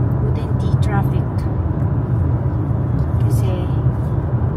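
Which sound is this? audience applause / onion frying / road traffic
road traffic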